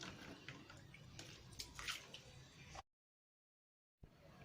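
Water streams steadily from a small knife-cut hole in a water-filled balloon with a continuous gentle splashing trickle. It cuts to silence, then resumes.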